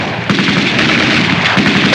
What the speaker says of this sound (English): Stop shooting! We'll surrender.